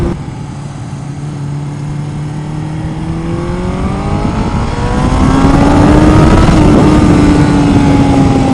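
A Honda Nighthawk S motorcycle engine accelerates loud and close, revving up through one gear then shifting and climbing again with a rising, droning whine, without talk.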